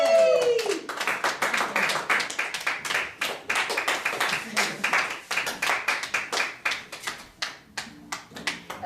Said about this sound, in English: That's actually a lot of clapping for this much audience.